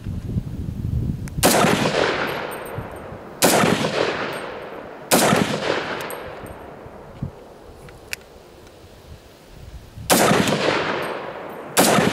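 An Ensio Firearms KAR-21 multicalibre rifle fires .308 rounds at 50 meters outdoors, with five loud, sharp single shots spaced a few seconds apart, each followed by a fading echo tail.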